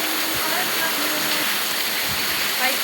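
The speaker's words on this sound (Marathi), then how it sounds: "पाऊस बघा खूप पाऊस पडला आहे" Heavy rain falling steadily outdoors, a dense continuous wash of broadband hiss with no breaks, fairly loud and close throughout.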